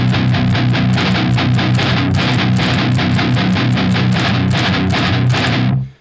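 Electric guitar in drop B tuning plays the intro riff of a song, a loud, continuous, heavily distorted chugging pattern with rhythmic accents that cuts off abruptly at the end.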